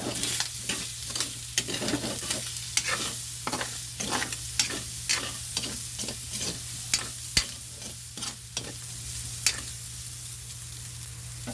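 Pork cubes fry in hot oil until crispy, a steady loud sizzle broken by repeated scraping stirs in an even rhythm, close up, with no talk.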